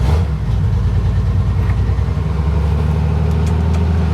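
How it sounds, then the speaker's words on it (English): A Jeep CJ5 engine held at high idle, a loud, steady low throbbing rumble with an even pulsing rhythm, close by and alone throughout. "We'll leave it on high idle for a minute."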